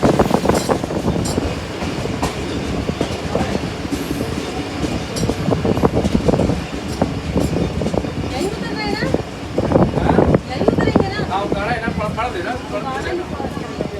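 Tezgam Express train rolling into Okara railway station, with a loud continuous rumble of wheels and carriages, irregular clanks and a brief squeal toward the end, while voices talk throughout.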